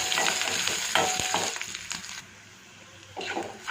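Finely chopped onions fry in a pan with mustard seeds and curry leaves, a busy sizzle broken by scraping stirs that dips quieter midway before picking up again; no one speaks.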